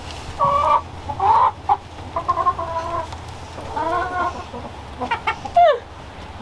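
Several chickens, including hens kept as indoor pets, cluck and squawk in short close bursts with a brief rising call near the end, no talking.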